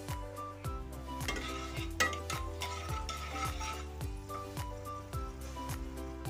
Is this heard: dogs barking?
no